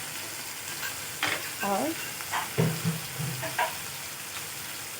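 Onions, tomatoes and chili sizzle gently while frying in a pan, a steady soft hiss with occasional stirring scrapes, as someone talks over it.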